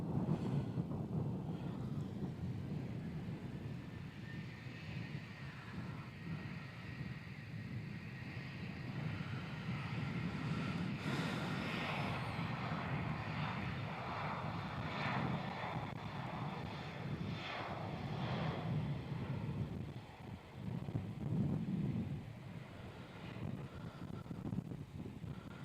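A jet airliner rolls and takes off from runway 34 at Melbourne Airport, its engine roar steady and broad for the whole stretch, with wind buffeting the microphone and no voices.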